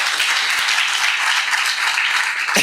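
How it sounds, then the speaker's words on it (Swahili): Sustained, dense applause from a large audience at a live business masterclass, loud and even throughout with no talk over it. "tuwapigie makofi tafadhali"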